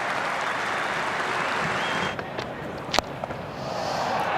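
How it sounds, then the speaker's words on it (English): Cricket crowd at the Sydney Ashes Test applauds Jonny Bairstow, a broad, sustained wash of clapping from a large stadium audience that thins near the end, with a few sharp isolated claps and knocks standing out. "Yeah, soak up that applause."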